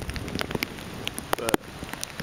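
Rain from Hurricane Isaac falls in southern Alabama, a steady close patter of drops striking surfaces, with a few sharper nearby splats.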